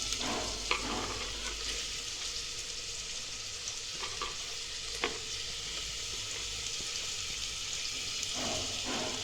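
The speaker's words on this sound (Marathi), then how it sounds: "आता आपण कापून घेतलेला हा कांदा आहे ना तेलामध्ये टाकून घेऊ" Chopped onion sizzles and fries steadily in hot oil in a home kitchen while being stirred, a continuous close crackle with occasional scraping clicks and no voices.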